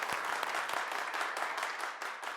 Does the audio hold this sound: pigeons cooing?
no